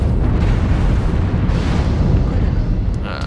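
An enemy mech blowing up in the MechWarrior Online video game, a loud continuous rumbling blast that fills the whole clip and tapers off slightly at the end.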